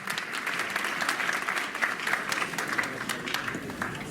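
A theatre audience at an eloquence contest applauds steadily, dense clapping filling the room at an even level throughout with no voices over it.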